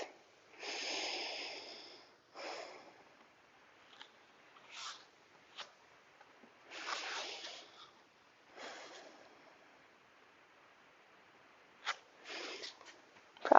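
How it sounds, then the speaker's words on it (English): Slow, full breaths during a yin yoga practice, soft airy inhales and exhales drawn out over a few seconds each and separated by quiet pauses, close and gentle, with no voice. "Three more full breaths."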